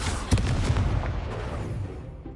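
Confringo blasting spell explosion in Hogwarts Legacy, a sudden booming blast with a sharp attack that rumbles and fades away over about two seconds, loud and close, no talk over it.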